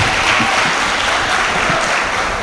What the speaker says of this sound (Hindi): एक बार तालियां बजाकर आदेश करिए, मैं पढ़ता हूं।